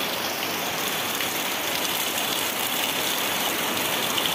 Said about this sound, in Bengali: আর দেখুন কি জোরে জোরে জল পড়ছে।